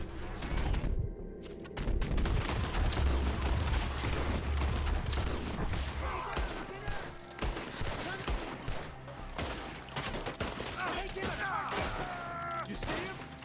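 Gunfire in Red Dead Redemption 2, loud rapid bursts of rifle and pistol shots cracking in quick succession with booming reports, dense and close, while voices talk over the fighting.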